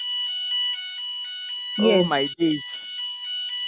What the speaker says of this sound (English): That's alarm from my end here.